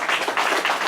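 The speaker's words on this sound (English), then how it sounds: "Give him a round of applause." Applause from a congregation at a Shabbat gathering in Cincinnati: brief, dense clapping from many hands, close and steady with no voices over it.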